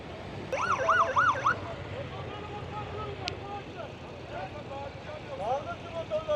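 Police car siren wailing in rising and falling sweeps during a police raid on a motorcycle outing, loud at first then fading into the background while people talk over the scene.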